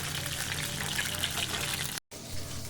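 Loitta fish fries in a pan, giving a loud, steady sizzling hiss, with a short break near the end before it resumes.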